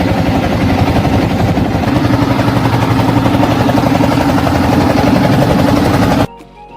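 A trawler boat's engine runs loud and steady at Patli Ghat in Bajitpur, setting out across the haor toward Austagram. It drones with a dense, rattling rumble for about six seconds, then cuts off abruptly.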